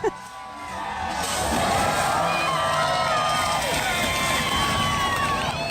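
A large outdoor crowd at a stunt show cheers and whoops loudly and continuously after a General Lee car jumps over six beer kegs, the roar sustained and close with shouting voices mixed in.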